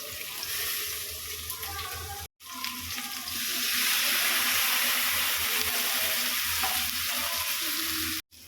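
Drumsticks frying in a pan with salt, turmeric and chilli powder, a loud, dense hiss of hot oil that cuts out briefly twice, with stirring noises mixed in.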